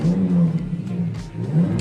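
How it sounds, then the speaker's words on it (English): A car once owned by John Lennon, at the British Motor Museum in Gaydon, idling and revving nearby, a steady low hum that swells and dips briefly. "that car over there does make an engine noise, which is really cool"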